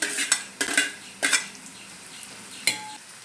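Onion, shallots, garlic and kanthari chillies frying in a pan for an ivy gourd stir-fry, with four sharp spoon clanks against the pan over a soft sizzle, close by and without speech.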